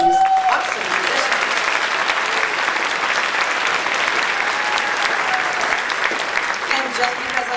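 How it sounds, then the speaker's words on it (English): Sustained audience applause at a school spring concert, warm and steady from a large crowd honoring student musicians, with a brief faint voice at the start. "A round of applause for these awesome musicians."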